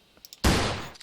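A single loud gunshot rings out from a gun in a Unity survival game, a sharp blast that decays over about half a second after a few faint clicks, with no talk.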